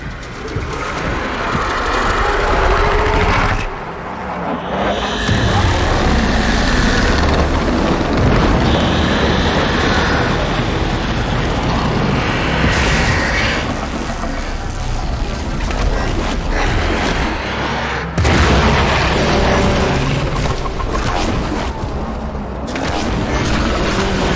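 A booming explosion in the Warframe video game during the Heart of Deimos quest, with heavy dense rumbling and crashing effects that run almost continuously and loud, with brief drops between bursts.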